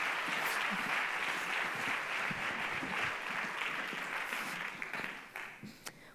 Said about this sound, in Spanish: Un aplauso para Maitane Alonso.